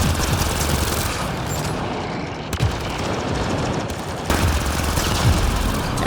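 Dense, continuous gunfire from the video game Mass Effect Andromeda: rapid automatic bursts with overlapping shots and booms that keep going without a break, loud and close, with no talking over it.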